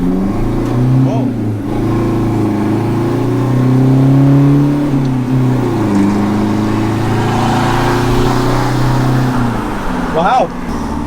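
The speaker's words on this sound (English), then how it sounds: "we are taking it for a quick test drive" A modified pickup truck accelerates on a road test drive in Thailand, its engine droning and rising in pitch before easing off, with a person speaking briefly near the end.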